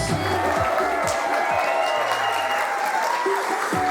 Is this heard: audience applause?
yes